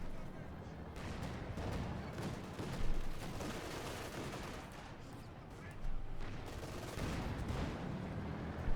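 Tank guns and small-arms fire rumble through a Company of Heroes 2 battle as a German Panther tank fires, dense with overlapping shots and explosions that swell at moments over a continuous, loud combat din, with a commentator talking.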